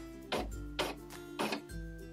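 An embroidery machine stepping backward stitch by stitch while stitching an appliqué letter L gives off a soft, steady mechanical hum, broken by four quiet, evenly spaced clunks with no talking.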